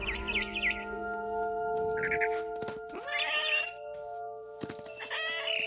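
A video game cat meows several times in short, separate calls, with a barn swallow's chirps mixed in over a steady tonal music bed and no talking.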